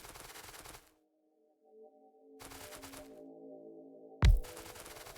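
Orbital ion cannons firing in the Factorio video game: short bursts of harsh crackling blasts separated by pauses, with a steady electronic hum underneath and one sharp, loud impact near the end.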